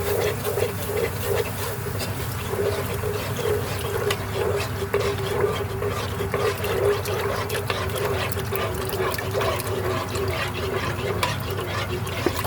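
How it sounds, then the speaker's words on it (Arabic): Milk trickles steadily and gradually into a béchamel sauce for baked macaroni, a soft continuous liquid pour heard up close with faint kitchen clatter, no voices. "هنزل دلوقتي بلتر حليب واحده واحده"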